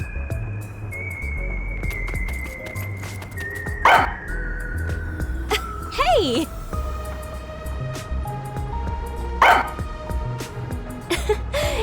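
Sugar, the dog in Master Detective Archives: Rain Code (Halara DLC), lets out a few sharp barks spaced several seconds apart over game music, with a brief shouted voice in the mix.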